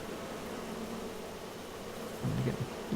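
Bees drone steadily in the Farming Simulator 22 game, a continuous close buzzing hum that swells slightly near the end, with no voices.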